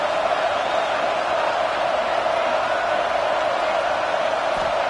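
A video game stadium crowd cheers on third down as Florida hosts UConn in college football, a steady, loud roar of massed voices that holds unbroken from start to finish.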